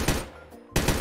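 Bursts of rapid automatic gunfire from military weapons in a Minecraft Bedwars match, loud and close, with a short volley, a brief lull, then another burst.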